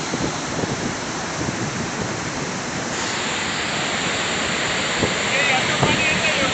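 Floodwater from the 2019 floods around Nashik and Trimbakeshwar rushes with a loud, steady roar of broadband noise that continues without a break, while voices sound faintly in the background.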